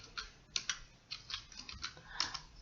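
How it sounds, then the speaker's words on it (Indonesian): Python commands typed on a computer keyboard, a quick run of close, crisp key clicks in uneven bursts with short pauses between them. "Jadi kita bisa mengetikkan perintah di sini"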